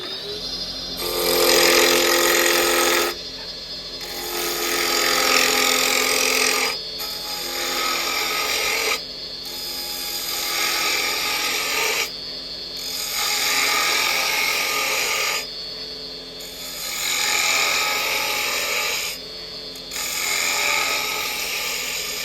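A roughing gouge cuts a wooden spindle turning on a lathe, with about five loud, rasping passes of a few seconds each. Brief quieter gaps fall between the passes, and the lathe hum continues underneath. No one speaks.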